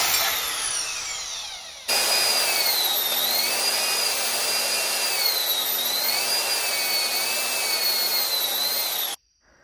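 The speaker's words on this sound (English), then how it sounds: "Now, cutting it with the bandsaw like this, you're not going to get a perfect cut." A bandsaw slices angled relief cuts through a part for a Harley-Davidson Sportster being turned into a dirt bike: a steady, loud whining buzz with wavering high tones, running alone for about seven seconds before stopping abruptly.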